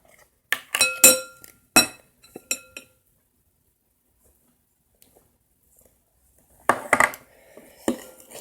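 A spoon knocks and clinks against a mixing bowl while stirring cornstarch into paint and glue for butter slime, in two quick bursts of scraping clatter separated by a few seconds of quiet.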